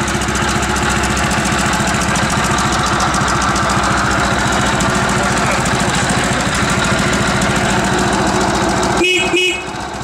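Engine of a bobber motorcycle built on a K-750 chassis runs at a steady, loud, rough idle with a fast thudding pulse throughout, then briefly cuts and sputters near the end.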